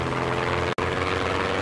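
A propeller plane in the Trailmakers video game drones with a steady, dense engine roar, broken by one very brief dropout midway.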